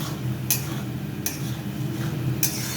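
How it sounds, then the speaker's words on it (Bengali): A spatula scrapes spice paste with salt in a pan over low heat while cooking murighonto, three distinct scraping strokes over a soft, steady frying hiss. "একদম কমিয়ে দিয়ে মশলাটা কষাবে।"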